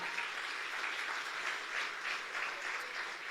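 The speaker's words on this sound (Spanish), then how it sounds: "Dale un aplauso de verdad." A church congregation applauds in a steady, even wash of clapping at a sermon, sustained throughout without breaks.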